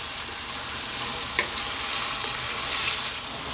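Sundried tomato pasta sauce sizzles steadily in a pan over lively medium heat, with a soft spoon scrape partway through and a continuous close frying hiss throughout.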